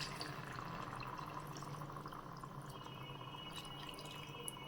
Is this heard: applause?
no